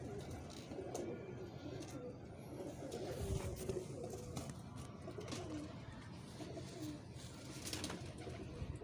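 Pigeons coo softly outdoors amid a busy background of distant traffic and faint chatter, the low rolling calls repeating irregularly throughout.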